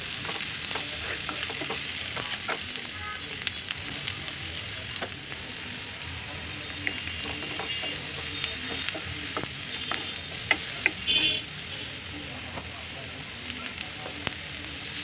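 Turmeric and chili powder paste frying in oil with a steady broadband sizzle, broken by occasional scraping stirs and a brief louder clatter near the end, close and continuous, as part of Ramadan iftar cooking.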